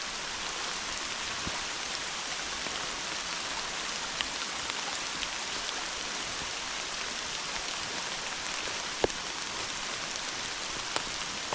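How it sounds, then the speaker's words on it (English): Steady rain falls outdoors as a constant, even hiss, with an occasional sharper drop tick standing out now and then. "It's doing some raining. It's been raining now, it seems like, for a week,"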